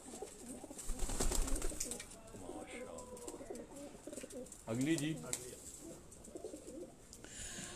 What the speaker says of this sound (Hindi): ये जो आपको दिखाई, ये पुराना कबूतर है।